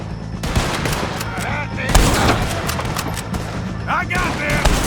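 Gunfire crackles through a Red Dead Redemption 2 shootout with O'Driscoll gang members, rapid repeated shots and booms layered over game voices and background chatter, loud and sustained across the scene.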